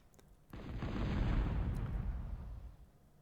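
Heavy artillery booms in a futuristic video game battle, one big blast that rolls on as a long, loud, low rumble and then fades out, with no voices.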